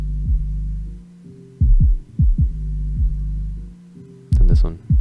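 A hip-hop beat mixed with its low end pulled out, thin and centred: steady repeating thumps and tonal hits in a looping rhythm, moderately loud and alone, with a busier, brighter burst near the end.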